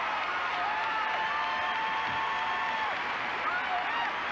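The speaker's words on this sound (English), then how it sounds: "Crowd loves it." A large arena crowd at a 1989 televised sports competition keeps up sustained applause, a dense, even wash of clapping with faint tonal whistles riding over it.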